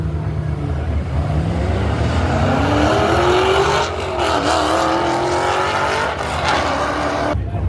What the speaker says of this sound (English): that's a 392 Bumblebee versus Camaro from like 2000s